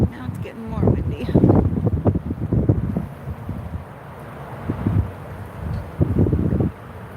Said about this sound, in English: Now it's getting more windy.